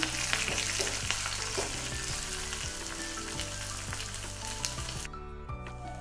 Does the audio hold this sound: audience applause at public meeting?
no